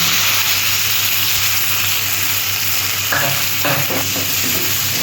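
Sliced onion fries in oil in a pan for a Bengali fish curry: a loud, continuous close sizzle with a few scraping stirs of a spatula partway through.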